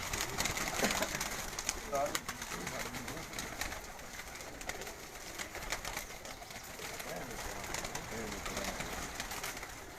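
Pigeons coo steadily over a constant bed of background noise, with other bird calls and faint voices mixed in throughout.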